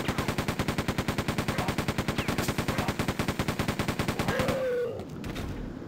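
Rapid automatic gunfire from a bullet weapon in Quake 2, a steady stream of evenly spaced loud shots lasting about four seconds before stopping abruptly into quieter game ambience.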